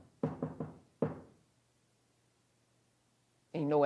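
A secret knock on a door: three quick raps, a pause, then a single rap, close and distinct in a quiet space, before a voice begins speaking.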